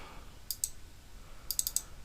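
Computer mouse clicks during an online upload task, a pair of sharp, quiet clicks early on and a quick cluster of four more near the end, close and isolated against faint background hiss.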